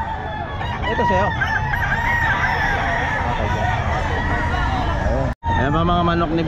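Roosters crowing repeatedly at the Bocaue pet market, several loud overlapping cock-a-doodle-doo calls and clucks close by, with a hubbub of people talking in the background.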